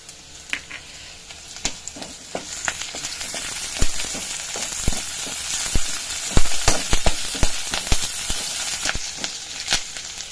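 Onion, curry leaves and green chillies frying in hot oil, a close sizzle broken by frequent sharp pops and crackles that grow busier midway, with no voices.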